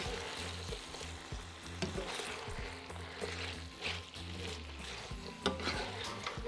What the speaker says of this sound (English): Add the beef back into the pan and give it a stir and heat through for 1 to 2 minutes until the beef is hot.